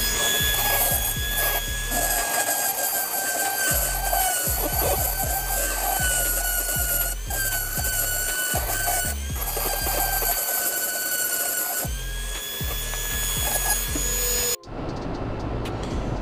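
Die grinder porting the intake of a GY6 cylinder head from a 2019 Vitacci Rocket scooter, a continuous high-pitched metal-grinding whine with shifting pitch as the bit works the casting, loud and steady, cutting off abruptly near the end.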